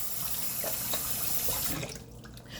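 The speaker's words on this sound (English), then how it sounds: "Let me wash my hands" Running tap water splashes steadily into a sink as hands are washed, a close, bright rushing stream that stops abruptly near the end.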